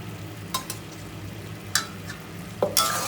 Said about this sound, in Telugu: ఒక టెన్ మినిట్స్ మీడియం ఫ్లేమ్లో వేయించుకున్నాం